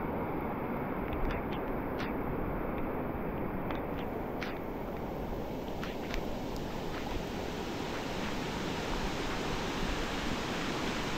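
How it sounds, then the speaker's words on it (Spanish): Floodwater from the Pase River rushes steadily through the Rancho San Marcos area after heavy rains, a constant loud broadband roar like surf with no pauses. "cómo el río Pase ha desbordado aquí en esta zona"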